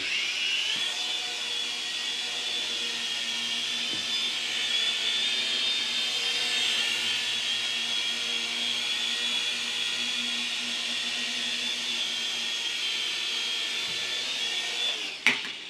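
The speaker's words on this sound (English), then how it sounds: "that's our little LiteHawk Dual tandem rotor system, or twin rotor. Nice little heli, pretty quick" A LiteHawk Duo tandem twin-rotor RC helicopter buzzes steadily at close range with a high whining rotor tone, holding level through its flight and landing before cutting off abruptly at the end.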